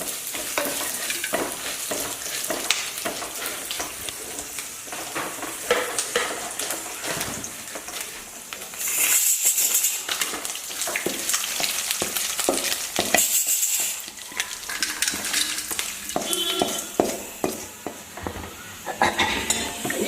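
Chillies and coconut frying in a pan: loud, continuous sizzling with frequent clattering stirs and scrapes of a utensil against metal, close-up and unbroken, no voices.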